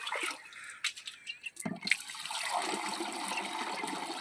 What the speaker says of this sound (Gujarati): હાલો હું પંપ ભરું